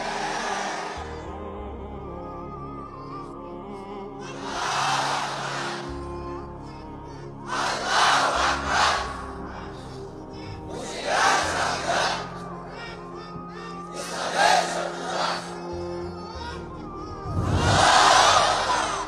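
A large crowd at a Bangladeshi political rally shouts a slogan in unison. Loud, massed chants rise in repeated bursts every few seconds, with a leader's calls falling between them.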